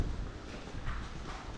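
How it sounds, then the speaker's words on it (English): Dairy cows move through a cubicle shed on a dairy farm, their hooves clopping in an irregular shuffle over continuous barn noise. Nobody speaks. "All the cows there waiting to go in."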